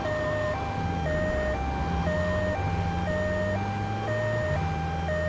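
Ambulance siren from the video game Grand Theft Auto III, a steady two-tone wail alternating evenly about every half second, loud and continuous over low engine rumble with no talk.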